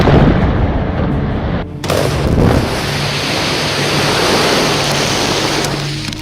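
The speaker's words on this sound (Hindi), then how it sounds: "लेकिन तभी होता है जोरदार धमाका" A factory blast recorded on CCTV, a sudden heavy boom followed by a sustained, roaring rumble of broadband noise that stays loud and close throughout, with no voices.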